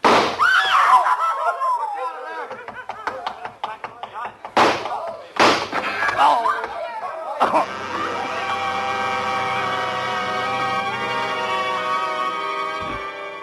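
Gunshots in a radio suspense drama: two sharp, loud bangs a second apart cut through tense shouted dialogue, followed by a sustained dramatic music sting.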